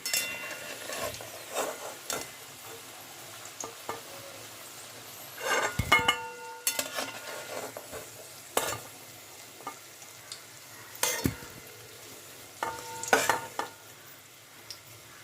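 Potatoes for aloo dum fried in oil on a medium flame, with stirring and scraping clinks in a pan at moderate distance; irregular utensil knocks and brief sizzle bursts come and go with no talking.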